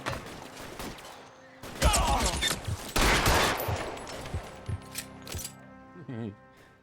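A loud volley of gunshots from an L.A. Noire shootout erupts in quick overlapping cracks mixed with clattering impacts, then thins to scattered shots. Voices speak over parts of it.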